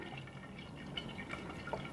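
Honey and water mixture for mead being swirled in a container, producing soft sloshing, dripping liquid sounds with small splashy accents, steady and close, with no talking.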